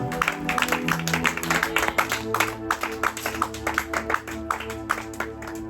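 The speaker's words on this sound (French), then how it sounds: "Est-ce qu'on peut applaudir le Seigneur?" Church congregation clapping in praise, rhythmic handclaps keeping time over sustained music at a moderate, fairly distant level.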